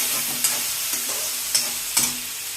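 Mustard seeds and cumin frying in a little oil, a close steady sizzle with several sharp pops and crackles spaced through.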